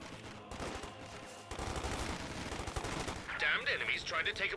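Rapid gunfire and bursts of machine-gun fire crackle in a Company of Heroes 2 battle, fairly faint and dense, with a louder flurry of shots near the end.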